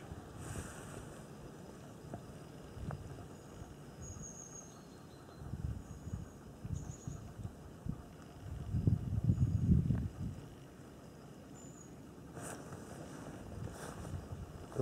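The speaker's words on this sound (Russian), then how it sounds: "Ветер мешает ловить-то." Wind gusts blow steadily across a lake around a small fishing boat on a day of early snow, with low buffeting rumbles that swell louder near the middle and faint higher tones drifting above, no talk.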